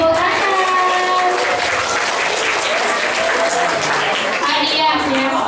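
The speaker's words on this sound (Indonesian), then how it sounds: "Beri tepuk tangan." A group of children clapping loudly together on cue. The dense applause runs the whole time, with young voices calling out over it.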